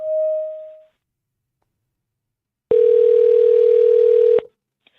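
A telephone line gives a steady tone for nearly two seconds as a call goes out to a Hyundai car dealership, following a brief earlier beep and silence.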